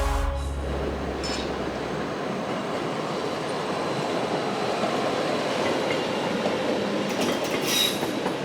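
Rhaetian Railway S-Bahn train running on track near Chur, a steady loud rolling rumble with a low hum fading at the start and brief wheel squeals near the end.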